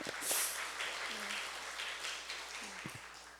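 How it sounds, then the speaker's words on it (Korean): Audience applause in a Korean Buddhist lecture hall, a continuous, moderately loud wash of clapping with faint voices beneath. "큰 박수 보내주세요"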